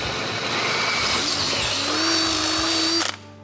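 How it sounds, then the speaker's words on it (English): A power drill bores out a Yamaha dirt bike part, its close, loud whine climbing steadily in pitch before cutting off abruptly near the end. "what we can do is drill this out to match this pin"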